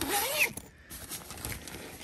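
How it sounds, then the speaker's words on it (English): A packing cube is unzipped, a quick close zipper rasp at the start followed by quieter rustling of fabric. "let me just unzip so you could see"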